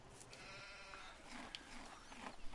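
A sheep's bleat from Farming Simulator 17 rises over a steady wash of farm-game ambience and machinery hum, moderately clear but not loud.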